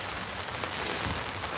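Steady rain pattering on a hard surface, a dense continuous hiss of drops with no voices, fairly soft and close.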